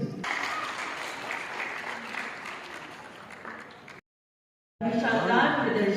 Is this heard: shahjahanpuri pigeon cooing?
no